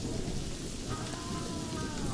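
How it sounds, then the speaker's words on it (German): Steady rain with rolling thunder from a rainy weather scene in the zoo-building video game Planet Zoo, a continuous dense wash of rainfall with low rumbling underneath, no talking. "das sieht immer so cool aus beim Regen"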